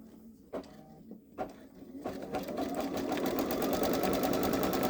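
A Babylock Solaris Vision embroidery machine stitches on a towel: after a few isolated clunks it starts a steady, rapid mechanical whir of repeating stitch strokes that runs on continuously, close by and fairly loud.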